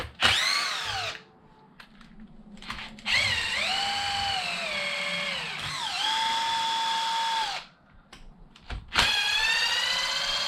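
A power drill spins in long sustained runs removing bumper screws on a Mojave, close and steady whining with pitch dips as load changes, separated by short quiet pauses.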